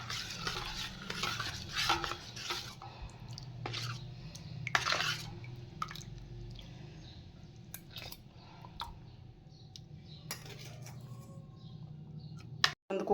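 Salt and water being stirred by hand in a bowl for panipuri water, a steady scraping and swirling with occasional clinks of a utensil against the vessel, continuous and close with no talk.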